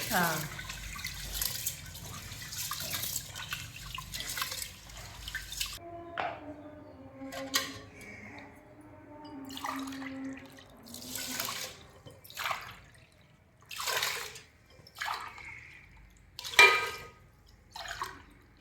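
Raw chicken pieces for dum biryani are rinsed by hand in water, with splashing, dripping and sloshing in a bowl at close range, at first under running tap noise, then in separate wet bursts.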